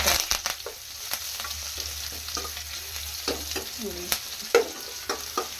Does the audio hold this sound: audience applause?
no